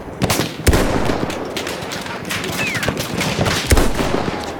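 Rapid gunfire in the Battlefield 1 video game, a string of sharp close shots and bursts with a couple of heavier booming reports, loud and busy over constant battle noise.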